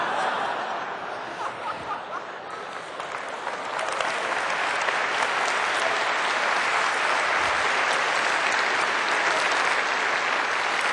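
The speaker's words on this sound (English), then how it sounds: "Oh, don't clap." Applause from a large audience at a robotics season kickoff event, a dense roar of clapping that swells after a few seconds and holds steady, with some scattered laughter mixed in.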